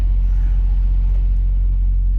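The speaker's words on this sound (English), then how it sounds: "Got to turn the truck off in here" A truck engine idles inside a cave, giving a steady, loud, low rumble that fills the whole stretch with no other sounds.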